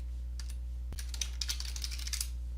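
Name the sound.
pressing delete key on computer keyboard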